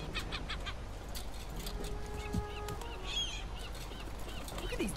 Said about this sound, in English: Look at these dumb birds.